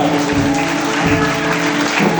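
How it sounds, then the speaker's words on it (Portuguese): A church congregation claps during a Portuguese-language service. The loud, continuous clapping blends with sustained music tones underneath it for the whole brief moment. "Então aplauda o Senhor."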